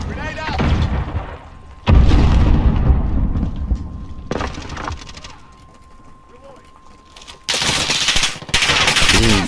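Combat in the Call of Duty Modern Warfare video game gives a loud, booming grenade explosion with bursts of close gunfire and rattling machine-gun fire, with a voice speaking under the din.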